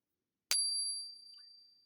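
A silver round struck with a Pocket Pinger coin tester gives one sharp metallic ping that rings on with a steady, pure high tone, slowly fading over more than a second.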